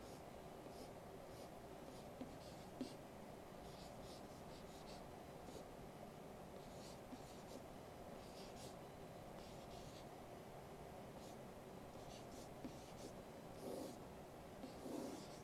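Pen or pencil writing out an augmented matrix by hand for a parabola systems problem, a quiet steady scratching with short strokes and taps running throughout, close and faint with no talking.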